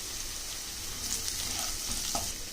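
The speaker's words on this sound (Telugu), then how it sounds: "తర్వాత ఇప్పుడు గ్రీన్ చిల్లీ కూడా వేసుకుందాము" Green chillies drop into a pan of frying garlic and onion with turmeric, bringing up a brief flare of close sizzling over steady hot-oil crackle and a few stirring scrapes.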